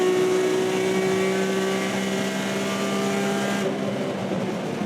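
A BTCC-spec Ford Mondeo front-wheel-drive race car screams at high revs near 8,000 RPM, a loud, sustained, close engine howl that dips slightly as it changes near the end.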